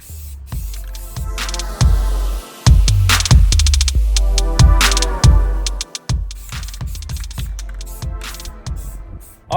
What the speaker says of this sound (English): I'm about to get ready to put my primer on there. Simple, basic primer. Hit about 3 coats on everything.